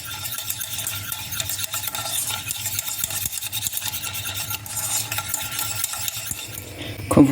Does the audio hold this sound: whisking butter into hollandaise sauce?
yes